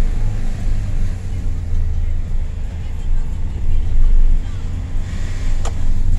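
A Citroën C4 Picasso 2.0 HDi 136 with automatic gearbox accelerates, its diesel engine giving a steady low drone with road rumble from inside the car, fairly loud, with a brief sharp click near the end.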